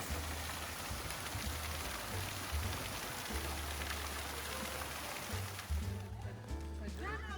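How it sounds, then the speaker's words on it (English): Water falls steadily into a fountain at Bangabandhu Safari Park in Gazipur, making a constant splashing rush with a low hum beneath. A person talks over it near the end. "You can also hear an amazing sound of the water falling."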